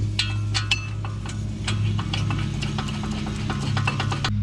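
Hand ratchet tightening 21 mm brake caliper bracket bolts on a 2006-2010 VW Jetta MK5, heard close up as rapid clicking bursts with short pauses between strokes.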